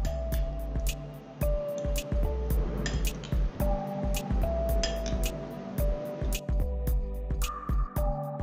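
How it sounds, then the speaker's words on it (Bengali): Chopped fresh fruits for a fruit salad are tossed together in a bowl, giving close, repeated soft squishes and light clinks at a steady rhythm, with no talking. "এরপর সমস্ত ফলগুলোকে একসাথে দিয়ে মিশিয়ে নেব।"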